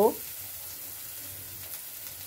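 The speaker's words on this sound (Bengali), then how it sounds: "একটু ফ্রাই করে নিচ্ছি। গ্যাসের ফ্লেমটা হাইতেই রেখেছি।" Onions fry in a pan over a high gas flame, giving a steady soft sizzle close by after a brief louder clatter at the start.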